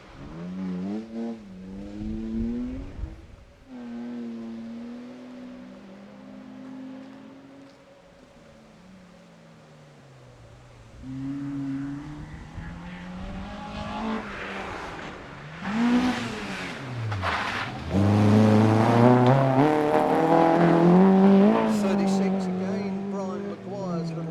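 Peugeot 205 rally car at a motor club tine trial sliding through a corner, its engine revving and rising and falling in pitch, growing louder as it passes close, with a commentator talking over it.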